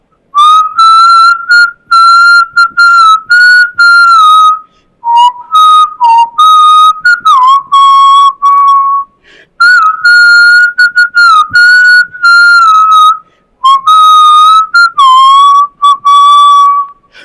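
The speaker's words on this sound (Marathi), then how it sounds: "मी शिट्टीतून गाणं म्हणून दाखवणार" A person whistles a song solo, loud and close, the clear melody coming in long phrases separated by short breaths and pauses.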